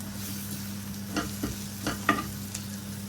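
Spices with garam masala, pepper and chilli powder stirred as they fry in a pan for a mutton roll, a few soft scraping strokes over a faint steady sizzle and low hum.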